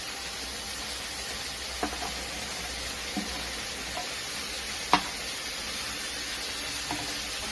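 Chicken pieces sizzle steadily in a hot frying pan while being stirred, a constant hiss broken by a few soft scraping knocks of the utensil against the pan.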